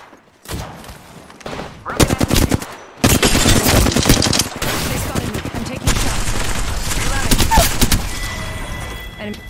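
Automatic gunfire in Apex Legends, loud rapid bursts and sustained fusillades close up, separated by brief pauses, with weapon clatter between volleys.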